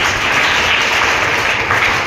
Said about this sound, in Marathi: त्यासाठी सरांसाठी तुम्ही सर्वांनी टाळ्या वाजवल्या पाहिजेत.